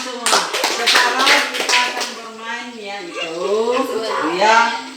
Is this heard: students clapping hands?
yes